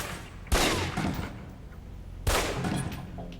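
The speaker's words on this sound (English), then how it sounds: "Equip the pistol, then aim down range and take some shots at the target." Two loud pistol shots, fired about two seconds apart at a target on a video game shooting range, each with a sharp crack and a short decaying echo.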